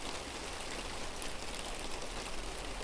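Steady, dense hiss of rain falling on dry ground after a long dry spell, continuous and even throughout with no voices.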